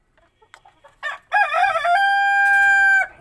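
A Lohmann Brown rooster crows loudly and close by in one long drawn-out call, preceded by a few soft clucks and scratching sounds from the hens.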